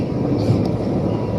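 Steady low rumble inside an Amtrak train heading north to Sacramento, a continuous rolling roar with faint rattles and no clear speech.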